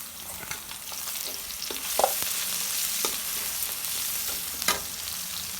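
Onions with bay leaf and crushed garlic fry in a pan, a steady broadband sizzle with a few sharp stirring scrapes, close and moderately loud, no voices.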